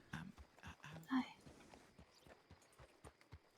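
Horse hooves clip-clop at a steady walking pace in a western video game, with a short neigh partway through and a voice speaking over the steps.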